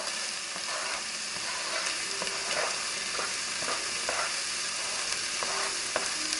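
Peppers and garlic sizzle in a pan of cooked, partly drained ground turkey, a steady broadband frying hiss with intermittent scraping stirs throughout.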